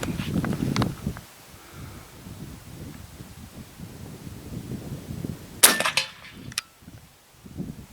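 An AEA HP MAX .357 caliber air rifle fires once outdoors at a 50 to 100 yard range, a sharp crack followed by a brief metallic clang and wind rustle.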